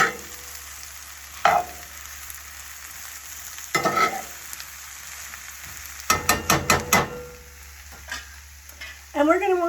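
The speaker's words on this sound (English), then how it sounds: "Gonna give this a little stir." Mushrooms and garlic fry in a pan under a steady sizzle, with several loud bursts of stirring and utensil scrapes, including a quick series of clanks near the middle.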